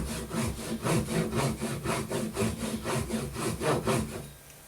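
A hand saw cuts straight down into a wooden fishing lure blank, making a steady rhythmic rasp of roughly ten close, even strokes that stops near the end.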